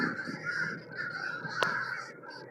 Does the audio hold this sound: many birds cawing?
yes